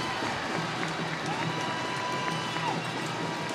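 Ice hockey arena crowd cheering after a home goal against Coventry Blaze, a dense sustained roar of voices and whoops that fills the space evenly throughout, with a commentator's voice faintly mixed in.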